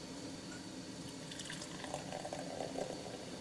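Tab soda poured from a freshly opened can like a beer, a faint, close trickling pour with light fizzing splashes and no voices.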